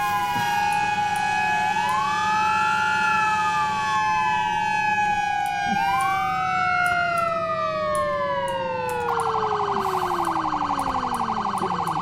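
Fire engine and police-style sirens from the emergency services game Flashing Lights. Loud, layered wails rise and fall for the whole span, joined near the end by a harsher steady electronic tone. A low rumble runs underneath, and no voices are heard.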